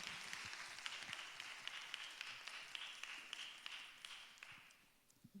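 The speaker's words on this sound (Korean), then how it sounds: "우리 박수로 환영하도록 하겠습니다" Faint applause from a church audience welcoming a pastor, a soft thin patter of hands with a few sharper claps, fading out near the end.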